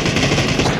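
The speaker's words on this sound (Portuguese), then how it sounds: "É ele dando tiro?" Rapid automatic gunfire from the battle royale game PUBG crackles in a dense, continuous burst of loud shots, with no pauses through the short stretch.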